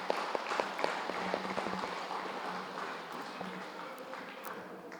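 An audience at a talk claps in scattered bursts that thin out and fade over a few seconds, with sharp individual claps heard near the start.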